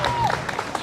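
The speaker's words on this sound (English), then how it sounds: "Can we give a round of applause for that?" Brief clapping from a festival crowd at the Disability Unite Festival in Central Park, a short, busy patter of hands with a faint whistle over a noisy outdoor background.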